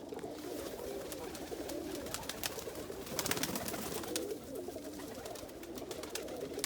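Pigeons or doves coo steadily in cold outdoor weather, with other birds chirping in quick bursts over a continuous soft backdrop, moderately distant and fairly faint.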